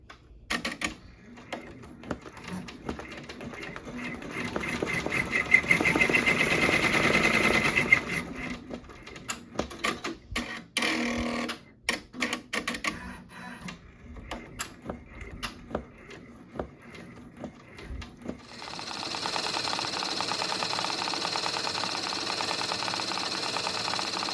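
A multi-needle embroidery machine stitches a patch steadily with a fast, rattling mechanical rhythm that shifts pace and tone partway through, running on without any talking.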